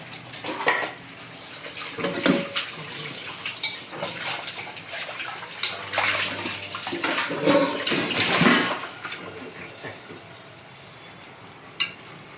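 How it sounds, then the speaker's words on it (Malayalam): Running water splashes steadily, with occasional clinks and knocks of dishes being rinsed and handled nearby. "അപ്പം ഞാൻ ആ പാത്രമൊക്കെ ഒന്ന് കഴുകിയെടുക്കട്ടെ"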